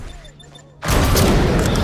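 An explosion in a film: a sudden loud blast bursts in after a quiet stretch with faint voices, then a sustained roaring rumble fills the rest.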